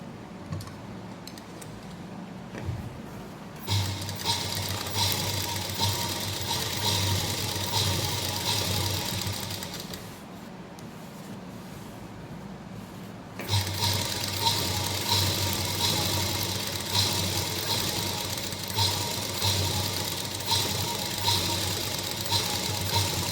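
A sewing machine runs in two long stitching bursts while a salwar is sewn, a steady rapid mechanical whir and tick, pausing briefly in between, with no talking.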